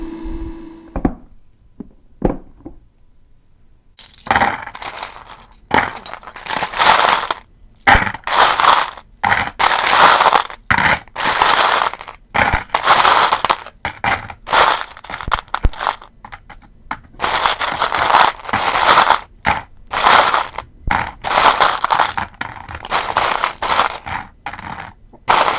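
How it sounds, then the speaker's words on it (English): Ice cubes tumble and clatter into a small homemade air conditioner unit, a dense run of loud, hard crunching knocks and rattles repeating close up for a long stretch with no talking. "I'm going to add some ice cubes, and I'm going to see if I could get even lower than that."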